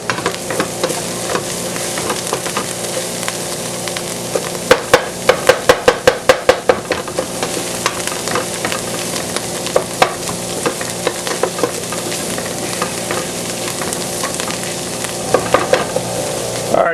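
Onions and celery sautéing in a hot pan, a loud continuous sizzle with bursts of rapid spatula taps and scraping against the pan, no voices over it.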